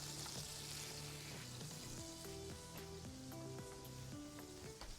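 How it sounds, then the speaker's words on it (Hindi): Sugar caramelizing in a hot pan gives off a steady, soft sizzle that continues without a break under background music. "चीनी को मैं कैरेमलाइज करना रख देता हूँ"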